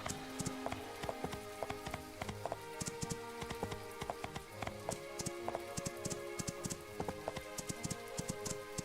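Horse hooves clip-clop steadily in the video game My Time at Portia, a brisk, even rhythm of hollow knocks that runs the whole clip over a soft ambient bed.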